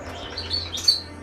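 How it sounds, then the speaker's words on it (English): Birds chirp outdoors in a short burst of bright, high tweets over faint background air, close enough to be clearly heard. "the birds might be a little noisy, sorry, nothing I can do about that."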